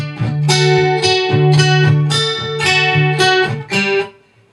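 Acoustic guitar playing measures 51 and 52 of a song, with several ringing strummed chords and sustained low notes in a slow, steady phrase that fades out at the end, with no voice.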